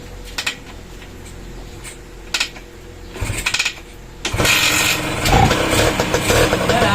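A restored engine is cranked into life. Scattered knocks and clatter come first, then a loud, rough, continuous running roar takes over for the last few seconds.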